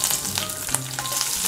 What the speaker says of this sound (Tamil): வெங்காயம் நல்லா ஃப்ரை ஆகணும்